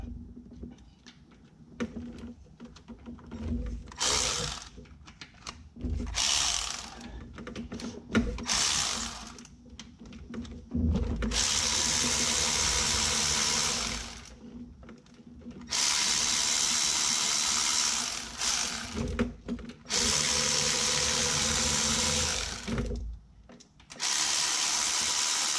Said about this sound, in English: take these other 4 bolts out.